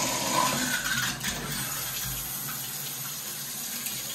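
Hotel shower head running at strong pressure in a hotel room, a steady broadband rush of spraying water with a brief disturbance early on, no talking over it.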